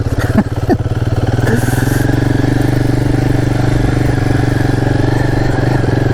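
A Royal Enfield Guerrilla 450 engine runs loud and close off-road, a steady throbbing drone after a few sharp blips at the start.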